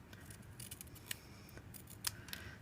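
Scissors snip through paper for a card-making project, a few quiet crisp cuts with light rustling, close and faint, with no talking.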